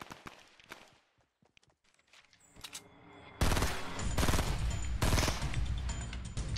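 Rapid gunfire in a Fortnite Battle Royale match starts abruptly partway through and keeps going as loud, dense volleys, after a quieter stretch of scattered footsteps and small knocks.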